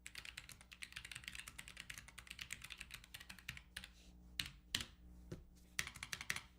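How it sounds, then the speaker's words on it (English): Rapid, crisp keystrokes on a compact 60% mechanical keyboard with Gateron switches clatter up close in a fast, steady stream, then slow to a few separate heavier presses, including the space bar. "But listen to the typing on this. This has Gatoron switches on it,"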